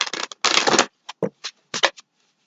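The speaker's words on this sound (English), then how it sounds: "I'm just going to give a couple shuffles." Close, crisp riffling of playing cards, two longer shuffles followed by several short flicks and taps as the deck is squared.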